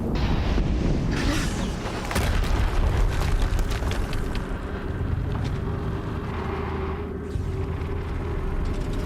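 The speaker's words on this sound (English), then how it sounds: "Another explosion." An explosion in the video game Horizon Zero Dawn, a loud broadband boom at the start that rolls into heavy rumbling and debris, with further thuds and blasts continuing over a dense mechanical roar.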